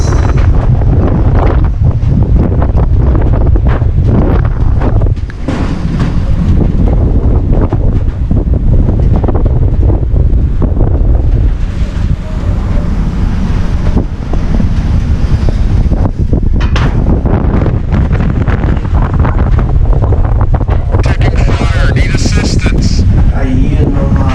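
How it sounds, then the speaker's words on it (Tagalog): Strong typhoon wind in Pangasinan buffets the microphone in loud, continuous roaring gusts, with a person speaking at times underneath. "Malakas na ang hangin."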